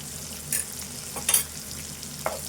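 Goat liver curry frying in a pan with onion and turmeric, a steady soft sizzle with a few scraping stirs of a spoon, close and alone without talk.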